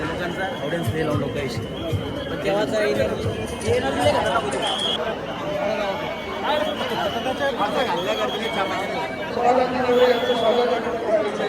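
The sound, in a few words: large crowd at a Ganesh bullock-cart procession in Nashik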